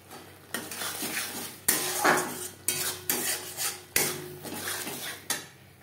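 A spoon scrapes and clacks against a pan while stirring a banana flower curry with coconut paste and fried spice mix, giving repeated close metallic knocks and scraping over a soft sizzle, with no talking.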